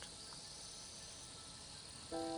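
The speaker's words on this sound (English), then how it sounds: "I'm still surrounded by the ongoing cacophony of cicadas." A steady, faint high drone of cicadas fills the air continuously, with a brief brighter tonal sound near the end.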